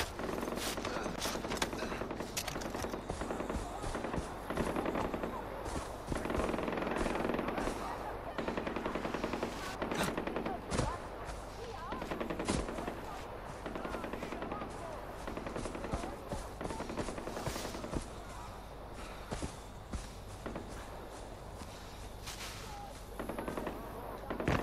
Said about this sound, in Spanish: Hay un tiro.